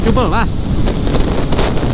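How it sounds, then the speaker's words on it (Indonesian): Strong wind buffets the microphone of a rider on a Yamaha Aerox Turbo scooter at top speed, a loud continuous blustery rumble with gusty thumps, and a brief voice near the start. "Dan ini angin emang kerasa banget, gelebuk banget nih."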